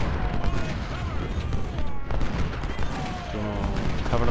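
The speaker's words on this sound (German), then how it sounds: "Solange sie laufen, können sie ja weiter schießen." Massed musket volleys from Civil War infantry troops crackle in Ultimate General: Civil War. The rolling gunfire goes on steadily, with scattered louder shots and other battle noise.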